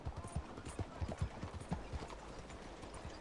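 Horse hooves clip-clop at a brisk trot in Red Dead Redemption 2, a quick, even run of soft thuds mixed over low ambient game noise at modest volume.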